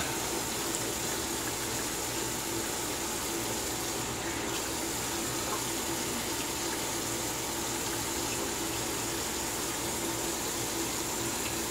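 Tap water runs steadily in a sink while a face is rinsed after a wet shave with a brass razor, a constant even splashing flow heard close and alone.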